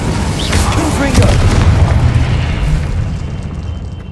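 In Hogwarts Legacy, a Confringo blasting curse explodes as a loud, deep boom that rumbles and fades over several seconds.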